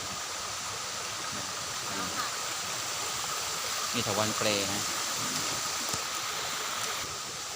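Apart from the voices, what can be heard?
waterfall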